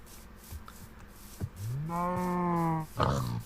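A cow moos in the Minecraft video game, one drawn-out, clear call rising at the start and holding steady before cutting off, with a few soft clicks around it.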